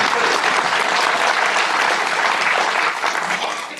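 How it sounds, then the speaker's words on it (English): Dense, loud applause from an audience at a talk on democracy fills the room continuously, a thick wash of many hands that fades slightly at the end. "You can clap."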